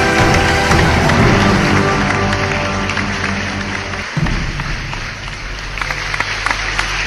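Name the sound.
audience applause welcoming the organizing committee chair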